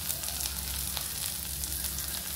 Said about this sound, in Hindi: देखिए फ्रेंड्स ये फ्राई हो रहा है, थोड़ा थोड़ा लाल होने लगा